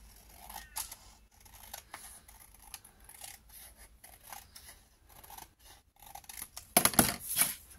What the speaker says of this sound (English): Hold it up here and cut it like this.